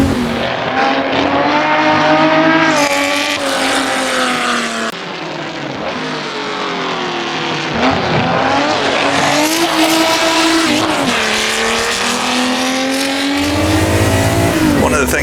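A vintage sportscar from the World Sportscar Legends mod in Assetto Corsa revs hard and climbs through the gears, its loud engine rising and dropping at each shift with brief tire squeal, continuous and close throughout.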